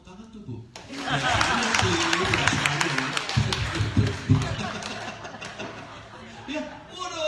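Church congregation clapping and applauding through a sermon, a broad sustained wash of hand claps with some chuckles and murmuring, gradually thinning toward the end.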